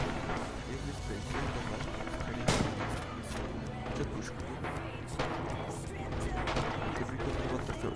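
Gunfire in the Red Orchestra 2 war game cracks out in repeated booming shots over a dense background of battle noise, with distant explosions and voices talking throughout.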